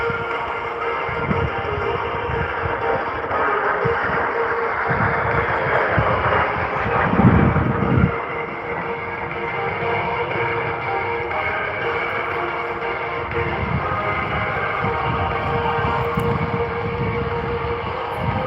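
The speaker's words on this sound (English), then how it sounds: "Here he comes from the right, the high-speed pass." Jet aircraft making a high-speed pass at the Pocono Raceway airshow, a loud continuous roar that swells and peaks midway, then holds as a steady broad rumble throughout.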